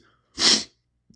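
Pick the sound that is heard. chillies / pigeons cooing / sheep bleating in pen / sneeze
sneeze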